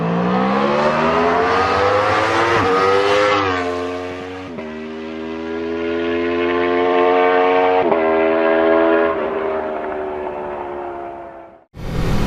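A 2019 Aprilia RSV4 1100 Factory motorcycle's engine drones loudly with a strong harmonic whine, rising and falling through gear changes before cutting off sharply near the end.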